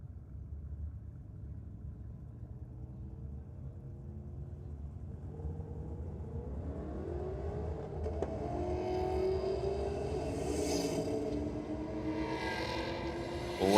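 A turbocharged Toyota V8 station wagon and a VF Commodore launch at a drag strip, a distant engine roar rising steadily with gear-change pitch sweeps, heard from afar over outdoor rumble.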